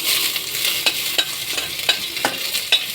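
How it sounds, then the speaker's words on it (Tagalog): Garlic sizzles in a hot pot while cooking sinigang, a constant bright hiss punctuated by several sharp taps and scrapes of a utensil against the metal at irregular intervals, up close with no voices. "Ihulog ang bawang."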